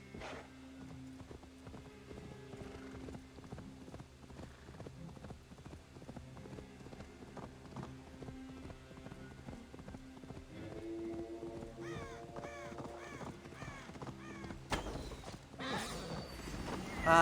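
A horse's hooves clop steadily at a quick trot in AC Valhalla, a faint, rhythmic patter under low game music and ambience that carries on throughout.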